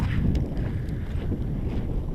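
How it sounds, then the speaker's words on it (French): A light wind in open ground gusts across the microphone in a continuous low rumble and buffeting, with faint scattered rustles and no voices. "Il y a un petit vent là."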